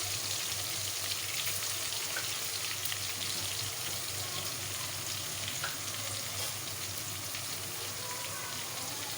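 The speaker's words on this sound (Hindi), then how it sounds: "ऑयल क्योंकि गर्म है तो इसके अंदर मैं डालूँगी 2 मीडियम साइज़ की अनियन" Two medium onions, finely chopped, fry in hot oil in a pan. A close, even sizzle and crackle runs steadily the whole time without letting up.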